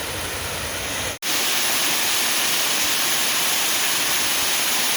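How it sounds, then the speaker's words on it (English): Spoonauger Falls, a small waterfall along the Chattooga River trail, rushes in a steady, loud broadband roar with no voices, broken only by one momentary dropout near the start. "And this is just a little waterfall here along the way."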